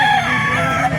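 Roosters and chickens at a poultry market in Baliuag, Bulacan, with loud, close crowing and clucking layered over one another throughout, and no talk.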